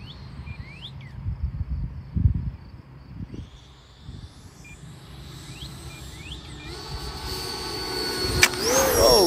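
A Viper 70 RC jet with full flaps out sweeps in low for a show pass. Its turbine whine starts faint and distant, then climbs to a loud, near rush. Wind buffets the microphone early on.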